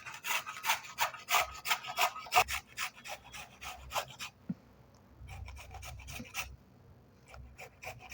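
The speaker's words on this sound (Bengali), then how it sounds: "এটা এবার গ্রেট মেশিন দিয়ে গ্রেট করে নেব" Raw potatoes rasped on a hand grater in quick rhythmic scraping strokes, close and crisp, then a brief pause and a softer, slower run of strokes.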